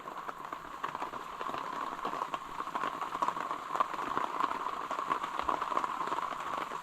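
Heavy rain falls in a forest, a constant close patter of drops on surfaces, moderately loud and unbroken, with no voices.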